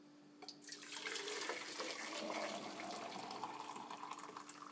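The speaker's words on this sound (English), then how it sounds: "Now we're gonna put the water inside." Hot boiling water poured into a coffee maker for brewing, a steady splashing pour that swells after the start and runs continuously at moderate level, with no talking.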